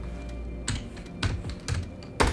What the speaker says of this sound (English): typing in an exclamation mark, then pressing the tab key